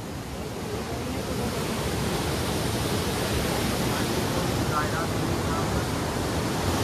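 Water pours over an old dam from about 200–250 years ago, from British times: a continuous, broad rushing roar that stays steady and fairly loud throughout.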